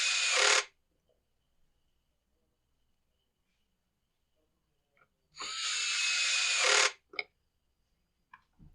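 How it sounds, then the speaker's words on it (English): Two loud whirring bursts from a power driver running in screws to fasten the debris shield of a Weedeater leaf blower, separated by several seconds of near silence with a few small clicks. "We'll get this debris shield bolted down into place."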